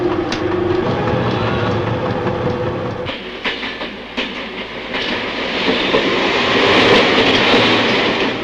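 A driverless automatic RATP metro train rumbles and clatters steadily as it departs a station, wheels clicking over rail joints as it gathers speed, loud and close, with no voices.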